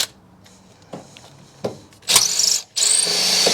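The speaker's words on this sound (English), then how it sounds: "So I'll get the drill and I'll take off the tags." A power drill drills out rivets on a Project Trueno car: a few short taps and clicks, then two loud, sustained bursts of high-pitched whining and grinding, close by with no talking.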